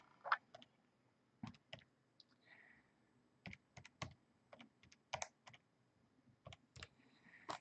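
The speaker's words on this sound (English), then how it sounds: "you can just plug that into your calculator quickly" Calculator buttons are pressed in quick irregular bursts of light plastic clicks, close and quiet, with short pauses between taps and no speech.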